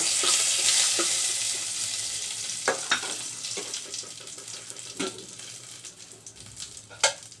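A bay leaf, cinnamon and cardamom sizzle in hot oil in a pan with a strong, close hiss that slowly fades, as scattered sharp clicks and crackles pop through it.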